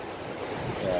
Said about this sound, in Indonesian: Dan itu sungai